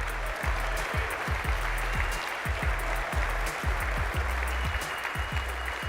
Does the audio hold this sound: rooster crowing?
no